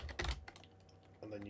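Rapid clicking of keystrokes on a new computer keyboard, close and fairly quiet, in short bursts with a pause between them.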